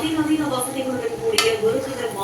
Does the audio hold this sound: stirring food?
yes